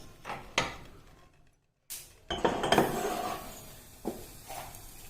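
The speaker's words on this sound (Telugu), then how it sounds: "పక్క తీసుకునేసి కుక్కర్ పెట్టుకుంటాను స్టవ్ మీద." In a home kitchen, a pressure cooker is set on the stove amid pots and utensils, making several sharp metallic clanks and clinks in bursts separated by short pauses, close and fairly loud, with no talking.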